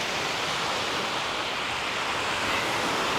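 Ocean surf at a beach near Hội An, Vietnam, makes a steady broadband wash of breaking waves, close and fairly loud, with no voices over it.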